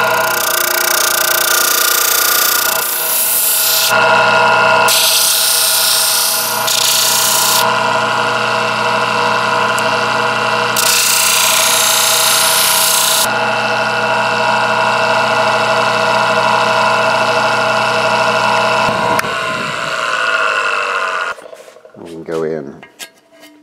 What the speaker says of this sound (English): take your popsicle stick and your disc sander and just make a little